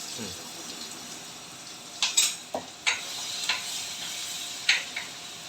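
Green chili and garlic paste sizzles in a hot pan while making kadhi, a steady frying hiss broken by several sharp clinks of a utensil against the pan.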